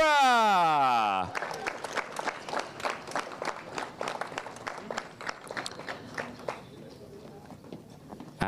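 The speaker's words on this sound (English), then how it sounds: "Please give a huge round of applause for 2nd place, Sukmani" Outdoor crowd at a PF International karting podium ceremony breaks into scattered clapping after a fading tone, sparse and uneven claps running several seconds before tapering off, with some background voices.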